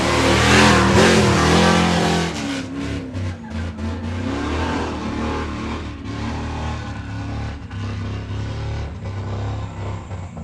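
An off-road stock race truck revs hard at the start of a high desert 100 race, the engine slightly misfiring, a loud close roar that rises then settles into uneven throttle blips and rumbling idle.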